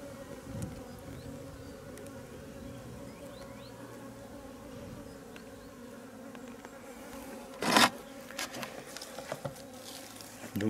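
Honeybee colony droning in an open hive, a steady close buzz of many bees with a few sharper passes near the middle.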